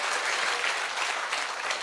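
Brief applause from a church congregation during a sermon, a dense, even burst of clapping lasting under two seconds with no voices.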